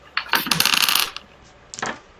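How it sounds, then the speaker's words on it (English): A pair of dice clatter and rattle across a hard surface in a quick burst, then a brief second tumble follows after a short pause, close and crisp with no talk. "So go ahead and roll your 2 dice."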